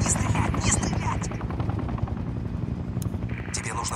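A helicopter's rotor drones loudly and continuously through a firefight in the video game Sniper Ghost Warrior 2, with sharp gunshots cracking at intervals over the noise.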